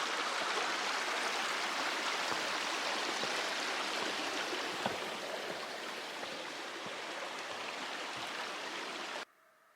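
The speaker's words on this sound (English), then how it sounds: "Here's Steamboat Creek. This is the outflow to Steamboat Lake" Steamboat Creek, the outflow of Steamboat Lake beside a Pacific Crest Trail crossing, rushes in a constant broadband wash with small splashes, heard close and steady until it cuts off suddenly near the end.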